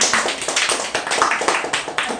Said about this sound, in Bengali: যত করতালি হোক